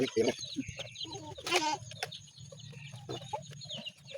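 Chicks peeping and clucking nearby in a farm setting, with short repeated calls scattered across the moment and bursts of louder fowl noise, while people talk in the background.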